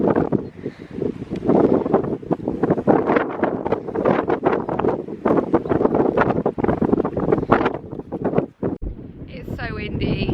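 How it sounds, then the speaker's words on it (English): Strong wind buffets a microphone outdoors beside an event horse, a rough, gusty roar that rises and falls throughout while a person keeps talking over it. "It's so windy."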